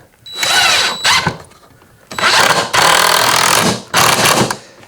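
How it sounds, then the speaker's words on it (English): Loud impact wrench whirring in three long bursts as it drives screws into wood, each a steady high-pitched mechanical drone with brief quiet gaps between them, close by. "That noise is an impact wrench."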